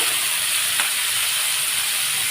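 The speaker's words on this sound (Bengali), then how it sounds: "এবার উচ্ছগুলোকে এইভাবে ভাজা করতে হবে" Steady broadband sizzle of bitter gourd frying in hot oil in a wok, a constant crackling hiss with no voices.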